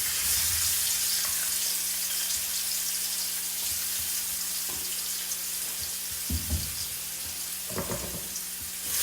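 Crushed garlic and ginger frying in oil for chicken curry, a steady hissing sizzle that holds throughout, with a few soft knocks and stirring bumps near the end.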